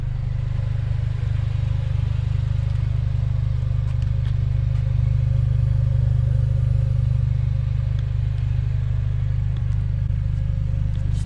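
A 2010 Honda Civic Si FA5 with Hondata tuning and no muffler drones loudly and steadily as it accelerates from 60 to 100 mph, a continuous low engine rumble heard from inside the car.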